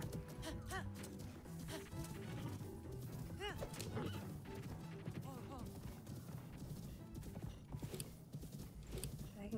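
Rhythmic clip-clop of a horse galloping in Zelda: Breath of the Wild, steady and fairly prominent throughout, mixed with game music and scattered effects.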